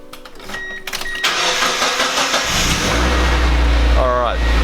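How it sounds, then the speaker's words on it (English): A Mazda MX-5 Miata engine cranks and starts, catching into a loud, steady idle close by after a brief whir and click of the ignition. "So we're just going to turn on the car here so you guys can take a look at it."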